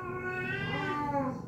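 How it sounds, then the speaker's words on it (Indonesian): Cats fighting outdoors, a strained, rising-and-falling yowl that holds steady throughout at close range with no talk. "di luar juga sedang terjadi pertempuran ya antara kucing si Pupu tuh dengan"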